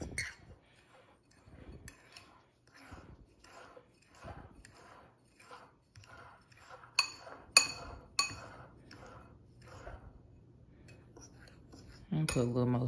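Utensil mixing cinnamon and sugar in a glass bowl, a steady run of close, bright clinks in an even rhythm, growing sharper for a few strokes before a brief burst of other noise at the end.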